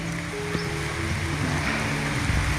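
Steady rain falls on a remote old Javanese village of wooden houses near forest, a dense continuous hiss with low rumbling underneath, fairly loud and unbroken, no voices.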